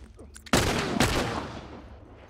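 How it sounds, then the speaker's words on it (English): Gunfire in The Last of Us: two loud, close gun blasts about half a second apart, each ringing out with a long decaying echo. "Good shooting, Ellie."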